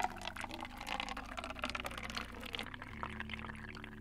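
Coffee drips and trickles steadily at close range, a continuous splashing stream over a low hum, with no talking.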